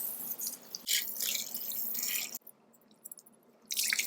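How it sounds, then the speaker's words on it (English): Cold water runs from a tap over a wig being rinsed, a steady splashing flow that briefly cuts out and then resumes. "Now I'm using completely cold water to rinse this because I don't want to cause damage to the hair"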